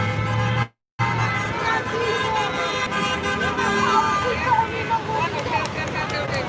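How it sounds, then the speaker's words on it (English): Car horns honking in support of a street protest in Gardena, several horns tooting repeatedly over traffic and crowd noise, with a person talking over them. "These appear to be all horns honking in support of the protest."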